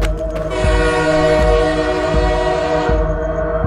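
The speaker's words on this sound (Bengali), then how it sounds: "ওদিকে আগের স্টেশনে এক্সপ্রেস ট্রেনটা ছাড়ছে।" An express train pulls out and rolls closer, a loud continuous rumble with rhythmic clickety-clack wheel beats and a sustained horn-like tone running through it.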